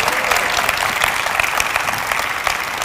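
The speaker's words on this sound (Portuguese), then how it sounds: "uma salva de palmas para os nossos irmãos." Steady applause from a church audience at a musicians' workshop, dense and continuous throughout at moderate loudness.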